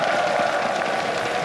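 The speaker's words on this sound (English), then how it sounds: "The crowd is definitely hyped." A crowd at an esports match fills an arena with steady roaring cheers and applause. The noise is loud and dense, with no single voice standing out.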